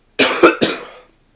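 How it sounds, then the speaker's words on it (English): A person with a cold coughs twice in quick succession, close and loud, the second cough trailing off into quiet. "Sorry for the coughing."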